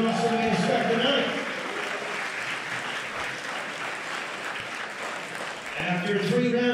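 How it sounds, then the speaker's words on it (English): A crowd at an amateur boxing event applauds two fighters after their bout. A steady roar of clapping is framed by an announcer's voice at the start and end. "let's have a round of applause for these two fighters"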